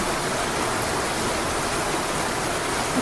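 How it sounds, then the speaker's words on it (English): A waterfall in the otome game Dark Nights pours down in a steady, full rushing roar of falling water that holds constant throughout, with no voices over it. "The sound of falling water echoes behind me."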